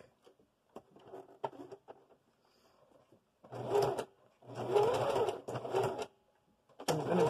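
Short bursts of a sewing machine back stitching an appliqué of double curved motifs, quiet and close, with pauses and faint handling sounds between runs.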